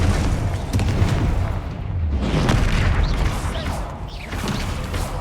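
A Confringo blasting curse explodes in the Hogwarts Legacy video game, a few loud booming blasts with crackling bursts amid other spell effects, close and forceful.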